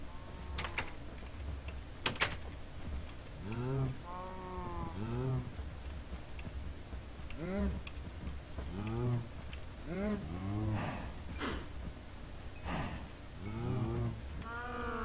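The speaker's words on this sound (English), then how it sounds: "Let's feed some cows." Cows in Minecraft moo repeatedly, their low, drawn-out game calls overlapping in a steady, fairly loud sequence over a constant ambient background while they are being fed.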